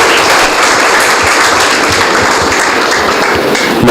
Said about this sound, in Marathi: आपण जोरदार टाळ्यांनी सुरुवात करूया आदर्श पालकत्वाची कहाणी.